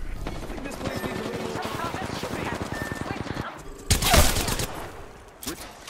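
Video-game gunfire in the chaos of Hammond labs: a dense burst of rapid automatic shots for several seconds, then a louder blast, with voices speaking over the shooting.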